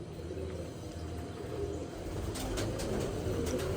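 Pigeons at a loft after being fed grain and water, cooing in a low continuous murmur over a steady background hum, with a few faint higher chirps near the end.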